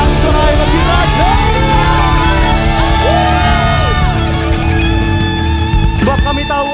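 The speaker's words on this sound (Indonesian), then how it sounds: "Berikan tepuk tangan sorak-sorai bagi Raja." A worship congregation erupts in cheering and shouting, loud and close, with whoops and raised voices layered over sustained music throughout, peaking again near the end.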